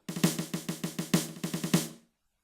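A quick burst of crisp programmed snare drum rudiment strokes in a steady alternating pattern with a few accented hits, lasting about two seconds before stopping.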